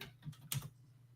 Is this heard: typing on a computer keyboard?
yes